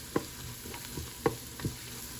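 Chicken for biryani cooks in a pan on high heat, a soft sizzle broken by three quick scraping stirs, close and fairly quiet.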